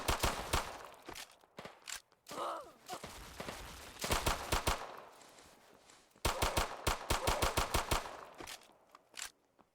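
Gunfire from a weapon in the Roblox zombie game Those Who Remain, bursts of rapid sharp shots in several volleys separated by short pauses, loud and close, with footsteps between them.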